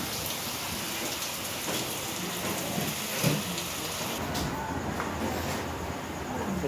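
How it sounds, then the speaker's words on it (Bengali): Rainwater pours and drips off a tin roof during a daylong downpour, a dense continuous patter with a few louder drops, close and steady, with no talking. "এই যে বৃষ্টির জল পড়ছে টিনের থেকে, এই যে বৃষ্টি হচ্ছিল, বৃষ্টি জল পড়ছে।"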